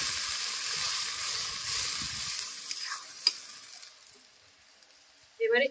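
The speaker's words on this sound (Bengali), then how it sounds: "এবারে বেটে রাখা ঝিঙেটাকে এই কড়ার মধ্যে আমি সরাসরি দিয়ে দেব।" Ground ridge gourd paste hits a hot wok of frying onion and sizzles in a soft, steady hiss close by. The sizzle is stirred at times, fades toward the end, and a brief louder sound closes it.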